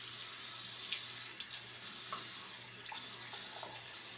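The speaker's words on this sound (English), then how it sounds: "Now I'm just going to put her under cold water" Cold water runs from a sink tap over a doll's hair in a steady, even stream, with faint splashes and a low hum beneath the flow throughout.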